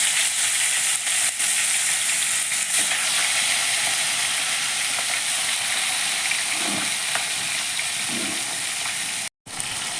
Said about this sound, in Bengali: দেখো, আমার তেলটা গরম হয়ে গেছে। এবার আমি মাছটাকে সুন্দর করে ভেজে নেব।